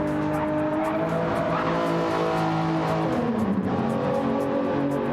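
Race cars roar along the track at Monza in a racing video game, a continuous loud engine drone with steady pitch shifts and a faint hint of tire noise, no voices.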